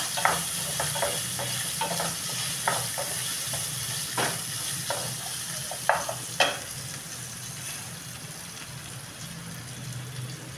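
Soaked Wada Kolam rice is sautéed in a pan with ivy gourd, giving a soft steady sizzle broken by repeated scraping stir strokes that thin out toward the end.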